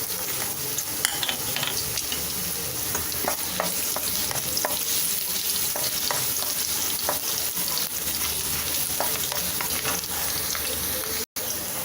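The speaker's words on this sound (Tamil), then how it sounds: "இப்போ இந்த இஞ்சி பூண்டை கொஞ்சம் வதங்கட்டும்." Finely chopped garlic and ginger sauté in hot oil for Schezwan fried rice, giving a steady, close sizzle throughout with repeated light scrapes and taps from a stirring spatula.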